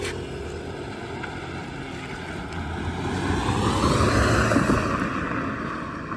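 A three-cylinder 1.0 TSI Skoda Rapid accelerates, heard from outside the car as a rising engine drone that swells in pitch and loudness, then eases slightly at the end.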